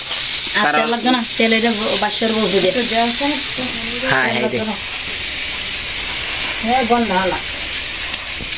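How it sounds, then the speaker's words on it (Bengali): Spices and turmeric frying in hot oil give a steady, close sizzle with a continuous hiss, while voices talk over it in several short bursts. "হলুদ দিয়ে ভালো করে কষাও আর একটু তেল দাও"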